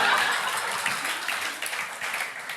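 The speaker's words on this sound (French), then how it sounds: "Vous avez applaudi trop vite pour mon départ" Comedy club audience applauding as a stand-up comedian leaves the stage: a steady wash of clapping from a full room, fairly loud, holding its level for a few seconds with no talk over it.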